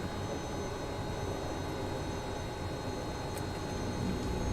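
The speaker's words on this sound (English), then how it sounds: "Let's go ahead and go low idle on the engine." A Kodiak aircraft's engine sits at low idle after landing at Burbank in Microsoft Flight Simulator, giving a steady, moderate drone with a low rumble that holds evenly throughout, with no speech.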